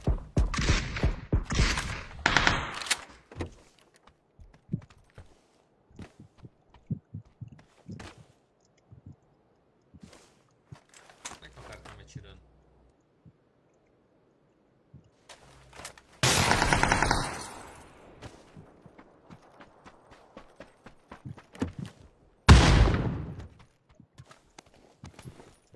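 Gunshots ring out from apartment buildings, a few loud sharp reports and a short burst standing out among quieter scattered cracks and knocks, heard at a distance with stretches of near silence between them.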